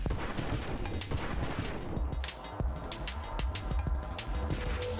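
Rockets fire in the space shooter roguelite Nova Drift, a dense, rapid barrage of sharp blasts and crackling explosions layered over a busy electronic game soundscape, loud and continuous with no one talking.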